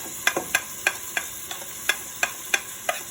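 Garlic goes into a hot frying pan for a Ghanaian mixed bean chilli stew, giving a steady soft sizzle broken by repeated sharp scraping taps of a utensil stirring, roughly every third of a second, close and fairly quiet.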